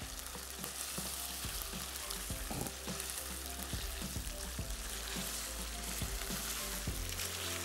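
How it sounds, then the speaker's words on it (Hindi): Food fries in a pan with a steady, close sizzle and intermittent stirring clinks and knocks throughout, no one speaking. "ये अब फ्राई, थोड़ी सी आग को स्लो कर दूं मैं"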